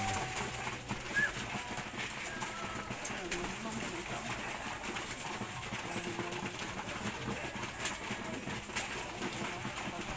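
Homer pigeons cluster during feeding, their soft cooing and wing and foot shuffles mixed under someone talking, with low outdoor background noise throughout.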